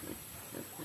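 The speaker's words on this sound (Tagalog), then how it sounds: "Ay naman ang aming mga alagang baboy." Pet pigs grunt on a farm in Quezon, giving two or three short, low grunts close by over a steady background hiss.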